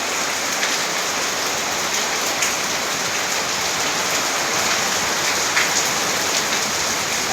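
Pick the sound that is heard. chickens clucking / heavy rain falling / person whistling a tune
heavy rain falling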